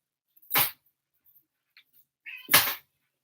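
A cat makes two short, loud meows roughly two seconds apart, close to the listener, with faint small sounds and near silence between them.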